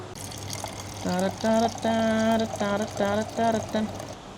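Cold water pours steadily in the background for mixing pre-workout powder while a person speaks in short bursts over it.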